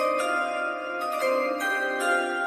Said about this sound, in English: Wait, I gotta do the chimes.